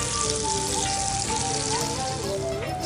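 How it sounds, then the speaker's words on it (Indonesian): Cauliflower frying in hot oil in a kitchen, a steady dense sizzle and crackle throughout, close and loud with a faint tonal hum underneath and no talk. "Kita goreng kembang kol."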